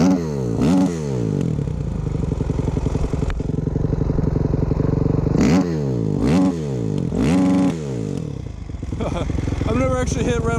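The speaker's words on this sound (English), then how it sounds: "I've never actually hit rev limiter on my bike before. That actually sounds pretty sweet." A motocross motorcycle at a motocross park revs hard into its rev limiter, the engine screaming in repeated rising bursts with sharp cut-outs and a choppy, stuttering buzz between pulls, loud and close, with a voice speaking briefly.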